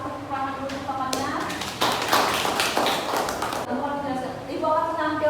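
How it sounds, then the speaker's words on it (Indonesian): Classroom applause for a classmate, a burst of clapping from a group of students lasting a couple of seconds between stretches of a teacher's voice. "Dikasih tepuk tangan dulu untuk temannya."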